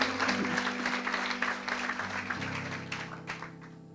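A church congregation applauds during a seminar service, a dense, continuous patter of many hands clapping that fills the room, steady and moderately loud before thinning slightly toward the end, with some voices mixed in.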